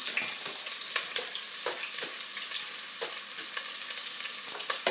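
Onions frying in vegetable oil, browned and then topped up with more onion for a smoked mackerel stew, give a steady close sizzle with regular scraping stir strokes, no voices.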